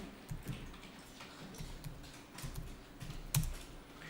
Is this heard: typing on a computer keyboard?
yes